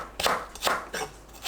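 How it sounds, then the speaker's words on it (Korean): A knife cuts onion into 1 cm thick slices on a board, giving four crisp chopping strokes at a steady, unhurried pace, close and fairly clear. "1cm 두께로 썰어주세요."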